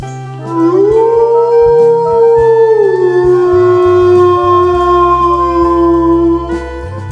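A wolf howls alone, one long sustained, wavering tone that rises, holds steady and then slowly falls over several seconds, loud and close, with faint lower tones underneath and no talking.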